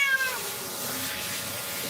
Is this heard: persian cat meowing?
yes